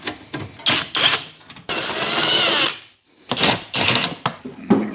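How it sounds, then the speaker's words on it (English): Hand tools work on a cover on a Toyota Tarago gearbox during a clutch job: close, loud bursts of ratcheting, clattering and scraping, with one longer continuous grinding rasp in the middle and short metallic knocks around it. "we're going to take this cover off now."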